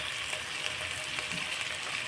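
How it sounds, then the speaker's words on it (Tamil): Tomatoes with salt sautéing in a pan for a drumstick thokku, giving a steady, close sizzle and frying hiss that runs evenly throughout without any voices. "தக்காளி நல்லா மசிய வதங்கி வரட்டும்."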